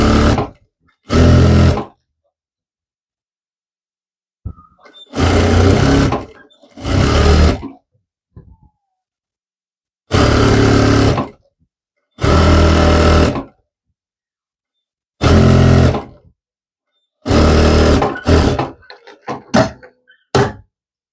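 A sewing machine stitching a seam on a French-cut dress, running in short bursts of one to two seconds separated by quiet pauses, loud and close with a few clicks between runs.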